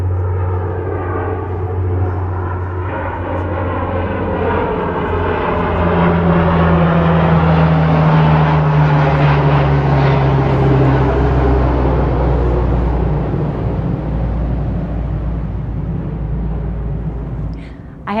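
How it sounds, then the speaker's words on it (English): A firefighting propeller airplane passes overhead above a garden. The engine drone swells and fades with a clear pitch shift as it flies by, loud and steady throughout, over faint background speech. "we are kind of in the flight path of a lot of the fire aircraft"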